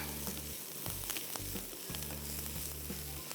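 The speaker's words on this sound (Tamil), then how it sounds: "இந்த கடலைப்பருப்பு கூட ரோஸ்ட் பண்ணுறது ரொம்ப ரொம்ப இம்பார்ட்டன்ட்" Chana dal roasting dry in a pan gives a steady soft sizzle and rustle, with a low hum that cuts in and out, and no voices.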